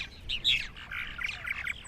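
Purple martins chirp and chatter around a farm birdhouse, a quick run of bright, warbling calls, moderately close and without talk.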